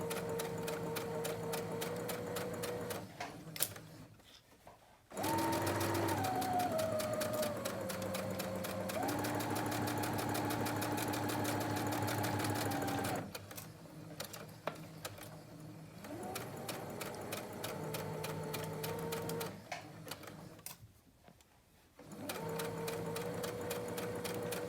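A sewing machine stitches fabric during a sewing class project, a loud rapid mechanical whirring and clatter running in long stretches, stopping briefly a few times and changing speed between runs.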